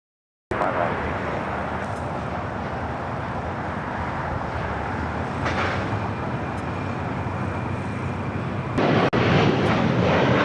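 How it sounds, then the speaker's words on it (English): American Airlines flight 274 takes off from LAX bound for JFK, a steady, loud broadband jet roar that holds throughout, with a brief extra surge near the end. "That was American 274 taking off the JFK."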